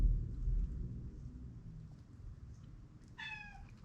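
A pet cat gives a single short, thin meow near the end, faint against a quiet room hum.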